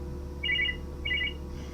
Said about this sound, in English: Sorry, phone.